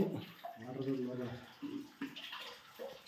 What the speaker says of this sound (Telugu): చూడండి ఒక్కసారి మీరు లోపల శివలింగం పైన నిత్యం వాటరు